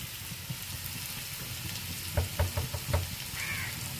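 Spices such as turmeric and chilli powder fry in a pan over a low flame, with a steady sizzle broken near the end by a few distinct scrapes and knocks of the stirring spoon.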